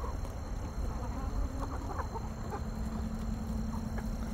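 Chickens clucking nearby, with a series of short clucks and calls over a dense, steady background of farm noise and hum, no talk.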